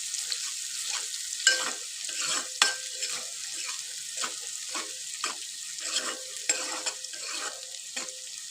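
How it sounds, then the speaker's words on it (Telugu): Onions and ginger fry in oil with a bright, continuous sizzle, while a spoon stirs in irregular strokes that make sharp clinks and scrapes against the pan, no talking. "మంచిగా ఫ్రై అయినాయి ఆనియన్స్ కూడా"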